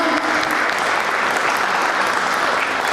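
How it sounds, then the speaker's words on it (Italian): Thick, continuous applause rises from an audience at the Nicola Marino memorial concert in Alcara Li Fusi as maestro Vincenzo Cuticone comes to the centre of the stage, staying loud and even throughout. "Cogliamolo con un bel applauso"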